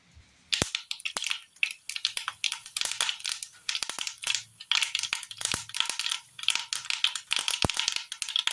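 Mustard seeds splutter in hot oil in a pan while a Kerala curry is made, giving dense, sharp crackling pops in rapid irregular bursts that stay close and fairly loud throughout.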